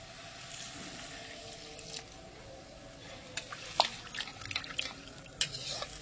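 Water poured into a pan of potato curry after the spices and oil are fully fried, heard as faint splashes and drips that grow busier toward the end.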